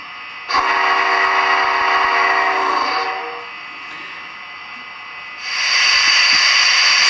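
Big Boy steam locomotive sounding a long whistle, a loud sustained harmonic blast of about two and a half seconds, then a quieter hissing gap before another loud burst of steam begins.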